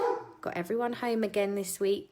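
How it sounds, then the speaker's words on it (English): Dogs barking and yipping indoors in a home jewellery-making workspace, several loud close barks in an uneven burst, with someone talking over them. "oh, excuse the dogs."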